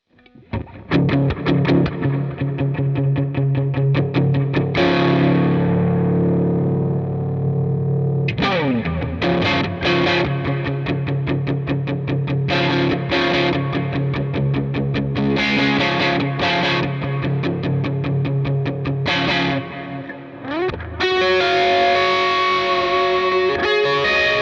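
An electric guitar runs through the Kilt overdrive on a Line 6 HX Stomp, playing a continuous gritty, driven riff of sustained chords and quick strummed passages, loud and up close with no talk.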